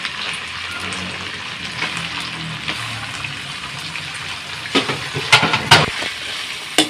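Chicken pieces for a green chicken karahi fry in a pan with a continuous, close hiss and sizzle, growing louder with bursts of spattering toward the end.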